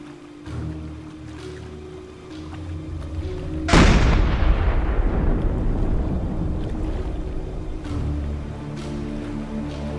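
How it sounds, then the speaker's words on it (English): A submarine deck gun in the Silent Hunter video game fires once, a sharp loud boom that rolls off into a long decaying rumble, over a steady engine and ocean drone. "For better precision, you can control the deck gun manually."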